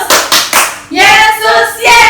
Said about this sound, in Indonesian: kita mau tepuk tangan buat Tuhan Yesus